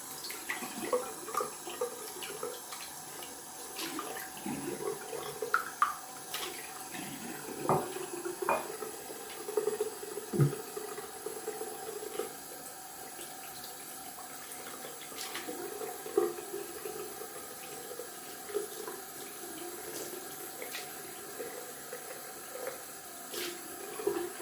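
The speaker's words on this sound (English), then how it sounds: "Just rinse out the bowl and let the olive work." A tap runs steadily into a sink as a shaving bowl is rinsed, with soft splashing and occasional knocks and clinks of the bowl under the flow, and no talk.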